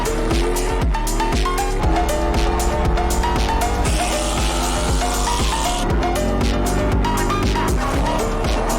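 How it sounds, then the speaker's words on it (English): A car drifts, its tires squealing loudly and continuously over a steady, roaring engine, with the pitch sliding up and down as it slides through the turns. "Drift time."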